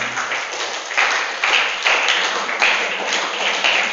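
An audience applauds in scattered, uneven bursts of clapping, moderately loud and fairly close, with no voices over it.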